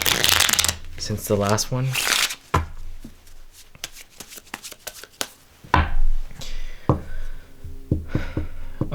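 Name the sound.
shuffling a deck of playing cards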